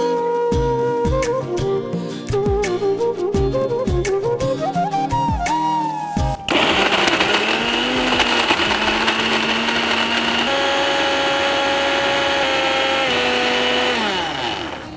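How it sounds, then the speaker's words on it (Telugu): A mixer grinder blends beetroot and jaggery with water for a sweet drink, starting with short stuttering pulses and then settling into a loud, continuous high whine with shifting pitch as the load churns. "సో దీంట్లో కాస్త వాటర్ వేసుకొని మిక్సీ చేసుకోవాలి"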